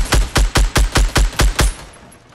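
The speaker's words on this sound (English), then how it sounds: "Where are those shots coming from?" Rapid gunfire in Fortnite, eight evenly spaced loud shots in quick rhythm, close and punchy, ending in a short fading tail with no voices.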